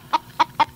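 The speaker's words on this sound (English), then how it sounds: "They don't believe I've got a chicken in the studio with me." A chicken clucks inside a radio studio, three short, bright clucks spaced evenly in under a second, close and fairly loud with no talking over them.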